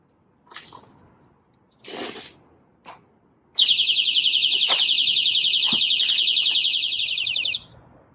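A small magnetic window alarm, the kind mounted on a solar panel as a theft deterrent, sounds a loud, steady high-pitched electronic tone for about four seconds after a few brief handling clicks, then cuts off.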